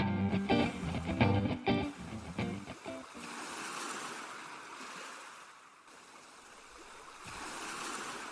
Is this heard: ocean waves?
yes